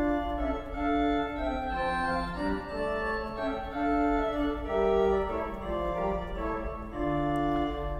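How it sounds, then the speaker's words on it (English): Pipe organ of a five-manual Austin instrument, registered with nasard, 8' and 4' flutes and tierce, playing a bright, lilting passage of sustained overlapping tones with a steady low bass, loud and alone without talk. "if we combine the nasad, the flutes 8, 4, and the terz, it sounds like this"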